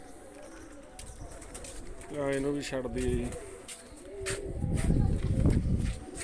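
Pigeons kept by a fancier give a short burst of soft, throaty cooing near the middle, close to the mic, amid rustling and shuffling, with someone talking over the scene.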